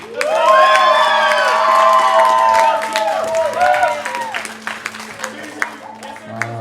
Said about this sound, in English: Audience, give them as loud of a cheer as you can on 1, 2, and 3.